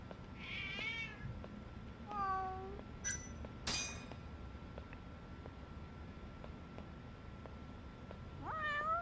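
Cats in the video game Judgment meow a few times, the calls spaced apart and fairly clear over a quiet background with light ticking.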